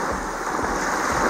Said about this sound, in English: There's a few waves, but not big ones, thankfully